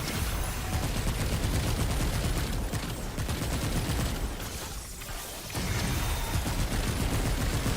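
The cube gun fires in Remnant 2 in a dense, sustained barrage of loud, close shots with a brief lull near the middle before it resumes, with no talk.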